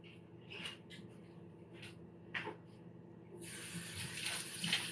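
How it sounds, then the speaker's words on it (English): Tap water runs over an item rinsed in a kitchen sink while making a keto Cinnabon mug cake, a soft splashing flow that swells into a steady louder gush in the last second and a half. "So I'm going to rinse this real quick."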